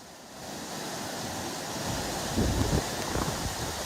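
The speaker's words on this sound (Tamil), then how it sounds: "இந்த காட்டாற்று வெள்ளம் போல் இந்த தண்ணீர் பாய்ந்தோடும் காட்சிகள்" Floodwater from an overflowing lake rushes like a wild stream through Tindivanam after Cyclone Fengal, a steady close roar of churning water with heavier rumbling surges partway through.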